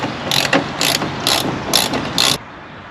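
A ratchet wrench backs off nuts on a classic BMW bumper mount, firing five quick close clicking bursts in an even rhythm before stopping, with no talk.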